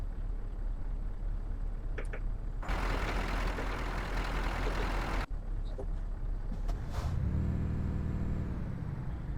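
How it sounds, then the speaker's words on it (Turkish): A truck's engine in Euro Truck Simulator 2 cranks and rumbles through a loud burst, cuts off abruptly, then settles into a low steady idle with a short hiss near the end. "Aracı çalıştırabildik."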